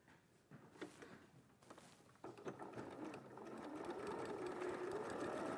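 A sewing machine stitches a quilt seam, starting with a few soft clicks and then settling into a steady whirring run that builds and holds, fairly quiet.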